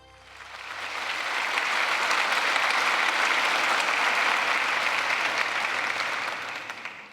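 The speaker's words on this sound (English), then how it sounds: "Laureates, we congratulate and applaud you." Sustained applause from an audience honouring laureates at the 2022 Franklin Institute Awards Ceremony, a dense, steady clapping that swells in over the first two seconds, holds full and even, then eases slightly at the end.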